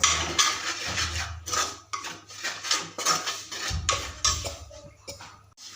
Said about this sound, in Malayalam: നന്നായിട്ട് ഇത് ഇളക്കി കൊടുക്കുക.